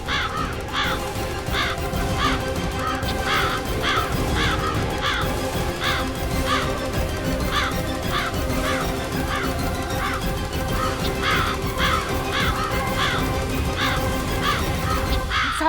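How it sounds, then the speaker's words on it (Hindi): A crow caws repeatedly in a steady, regular run of harsh calls, clear and fairly close over a constant background hum. "हमने तो कौवे को अब तक सिर्फ रोटी ले जाते हुए देखा है"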